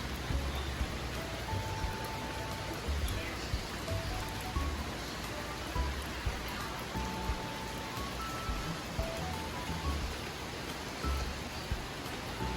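Steady rain falls on a morning at Alapaap, Siargao, a dense continuous patter on surfaces with a constant hiss, even and moderately loud throughout with no voices.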